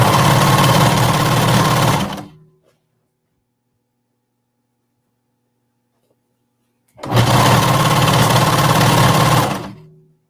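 Sewing machine hemming the bottom of a tank top, two loud steady whirring runs of about two and three seconds, close up, separated by a few seconds of silence.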